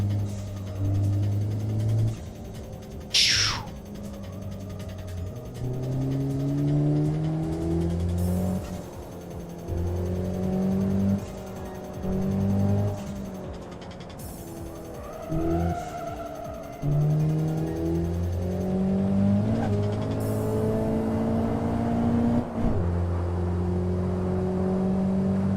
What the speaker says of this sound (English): I don't think these cars have ever sound very good, but at least you can hear the boost.